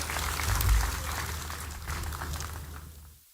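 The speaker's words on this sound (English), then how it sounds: "Please clap for ourselves." Audience applause at the 10th Uganda Film Festival Awards in 2023, steady clapping from a hall full of people that swells early, then fades and stops near the end.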